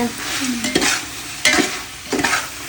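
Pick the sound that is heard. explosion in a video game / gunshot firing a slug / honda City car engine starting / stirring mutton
stirring mutton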